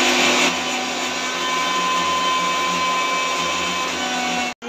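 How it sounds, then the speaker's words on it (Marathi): A mixer grinder runs loud and steady, whirring at a constant high pitch while grinding rice, then cuts off abruptly near the end before a brief restart. "हे आहे तांदूळ मिक्सरमधून काढायचे आहे"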